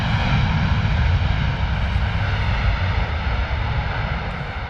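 A Ryanair airliner landing at London Stansted after last-minute rudder corrections, a loud, close, continuous engine roar with heavy low rumble that fades slightly toward the end, with no voices.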